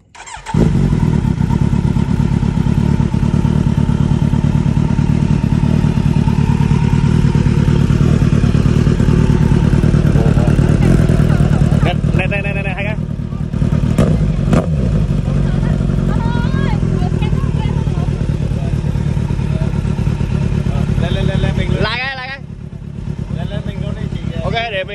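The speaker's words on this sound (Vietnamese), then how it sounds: "anh em mình sẽ nghe cái tiếng bô phân khối lớn thằng bạn mình nó nghe như thế nào nhá" A big-displacement motorcycle's exhaust rumbles loud and close with a deep, steady idle, rising revs and a brief drop near the end, while people talk over it.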